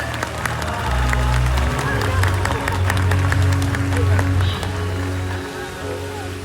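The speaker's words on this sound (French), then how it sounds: "je pense qu'on peut applaudir bien fort" Visitors at Beauval zoo applaud by an animal pool, a busy wash of clapping that swells and fades, with a low voice or hum running underneath.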